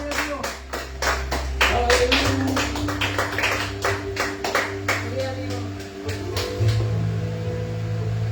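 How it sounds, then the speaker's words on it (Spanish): A church congregation claps rhythmically for God through a Venezuelan evangelical service, loud steady hand claps with music and voices underneath throughout. "Dele palmas a Dios."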